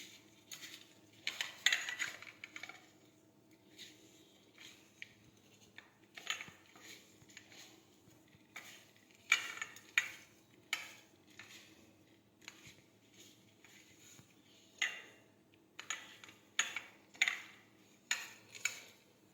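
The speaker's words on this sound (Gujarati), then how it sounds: "ફરી પાછું આ રીતે આપણે મિક્સ કરી દઈશું" A spoon stirring a spice mixture with powdered sugar in a pan, for stuffed okra, giving irregular scraping and clinking strokes, quiet and close, with no talk.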